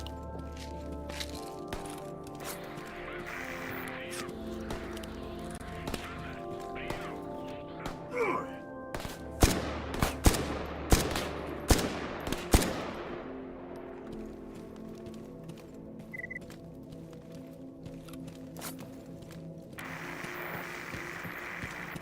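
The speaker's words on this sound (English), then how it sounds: "Who the fuck is shooting at me?" Gunfire in a video game cracks out as a burst of several sharp, loud shots over a few seconds, set against a low ambient hum.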